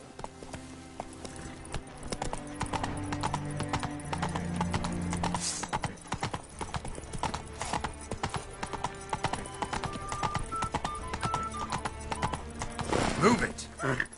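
Roach, Geralt's horse in The Witcher 3: Blood and Wine, trots along with steady rhythmic hoof clip-clops throughout, a brief whinny near the end, set against game music and ambient sounds, with voices speaking at the start.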